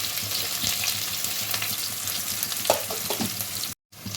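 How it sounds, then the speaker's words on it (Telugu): Onions frying in hot oil in a pan on a stove, one large onion, for a brinjal and fish curry; a steady close sizzle with a few crackles and soft scrapes of a ladle, cut by a brief dropout near the end. "స్టవ్ మీద ఆయిల్ వేడైంది ఆనియన్స్ వేసుకోవాలి పెద్ద సైజు ఆనియన్ ఒకటి"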